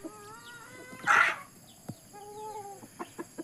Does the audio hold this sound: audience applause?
no